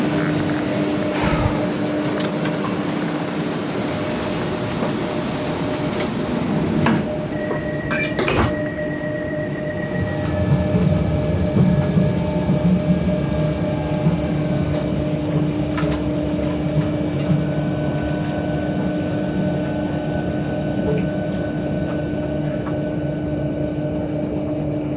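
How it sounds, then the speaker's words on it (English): Javelin high-speed train departing Ebbsfleet International station: a steady electric motor hum with rising whine and door-closing thuds early on, then a smooth building rush of the train pulling away nearby, no talking. "And as the Javelin departs, that's Ebbsfleet International ticked off the list as well."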